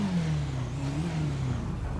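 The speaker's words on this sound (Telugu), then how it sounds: "సో ఈ బైక్ చాలా స్పీడ్గా వెళ్తుంది" A fast motorbike engine in the video game GTA 5 gives a steady, fairly faint whining drone that holds its pitch with a slight dip, heard alone without talk.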